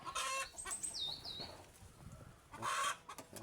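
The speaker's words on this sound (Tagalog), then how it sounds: "Chinese chicken. Pero ang tatay niyan, ano, labuyo." Chickens, a mix of Chinese chicken and wild junglefowl (labuyo), cluck and squawk nearby in a rural yard, with a few sharp high calls and bursts of noisy flapping over a soft background.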